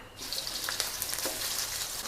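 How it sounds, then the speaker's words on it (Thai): Thai curry paste and shrimp paste sizzle and crackle steadily in hot oil over low heat, a close, continuous frying hiss with occasional sharper pops. "ผัดพริกแกงไปก่อนเลยจ้า"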